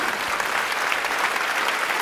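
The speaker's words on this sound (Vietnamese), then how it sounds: "một tràng pháo tay thật lớn nữa cho nữ ca sĩ" A studio audience on a Vietnamese music competition TV show applauds a female singer with loud, dense, sustained clapping that fills the whole moment without a break.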